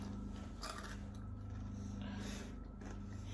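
Crunchy homemade chocolate chip cookies being bitten and chewed, a few soft crisp crunches close by over a steady noisy background, no talking.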